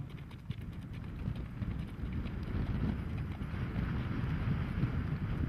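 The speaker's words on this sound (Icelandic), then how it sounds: "Fullorðinn og reyndur hestur, svo skjótti." An adult, experienced piebald horse moving at an August horse sales show in Akureyri, giving a steady, continuous clatter of hooves on the arena with wind rumbling across the microphone and no voices.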